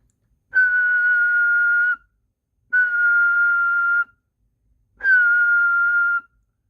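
Someone whistles into the microphone of a Galaxy 93T CB radio, producing three steady, loud sustained tones of about one and a half seconds each, separated by short silences, with no talk.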